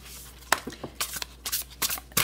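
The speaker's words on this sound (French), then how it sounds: "Alors, je vais brasser les cartes." Close, crisp riffling bursts as a deck of tarot or oracle cards is shuffled by hand, several quick flutters and slaps in an uneven rhythm with pauses between.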